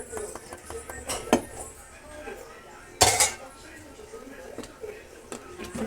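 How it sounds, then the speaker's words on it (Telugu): A prepared tempering goes into a pot of radish dal, with metal clinks and a clatter of spoon and pot against a quiet background. A sharp burst about halfway through may be the hot tempering hitting the dal. "ఇందాక మనం ప్రిపేర్ చేసుకున్న పోపు ఇందులో వేసేసుకోవాలి"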